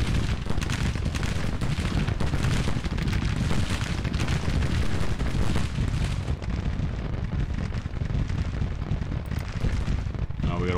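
Musket and artillery fire crackle and thunder along a Civil War battle line in Grand Tactician: The Civil War, a dense, loud, continuous roar of volleys and deep booms that thins slightly toward the end.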